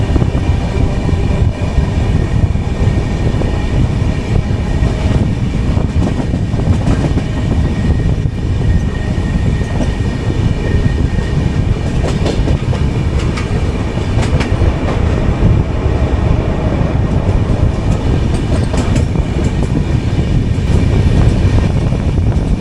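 The 12077 Jan Shatabdi Express, heard from inside its AC chair car between Chennai Central and Vijayawada, gives a loud, continuous rumble with steady wheel clatter throughout.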